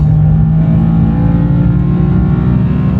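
A BMW M4 CS accelerates hard, its engine note loud, close and continuous as it pulls for a few seconds with no voices over it.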